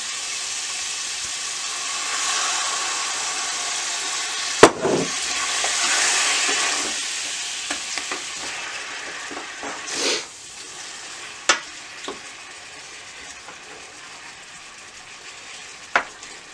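Chicken liver pâté mixture with orange and brandy frying in a pan, a steady close sizzle with a few sharp clicks and stirring knocks, no talk.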